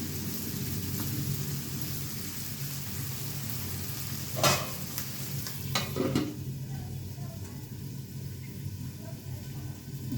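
Vegetables stirred and frying in a pan, a soft continuous sizzle with a couple of sharper scraping knocks of the spoon midway, fairly quiet and without talk.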